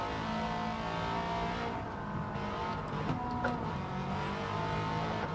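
Racing video game car engine on a snowy Lake Louise course in a Japanese 4WD challenge, a steady droning engine note held through a gear change, moderately quiet with faint tire noise.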